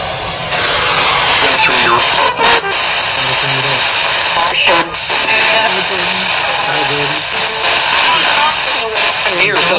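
An FM radio spirit box sweeps rapidly between channels, giving loud, harsh static cut by brief bursts and stutters of garbled broadcast voice fragments in a fast choppy rhythm.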